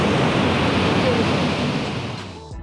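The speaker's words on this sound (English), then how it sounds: "And the beach right here." Ocean surf washes onto the beach at Oceanside, California, as a loud, dense, continuous roar that fades slightly toward the end, with possible wind buffeting on the microphone.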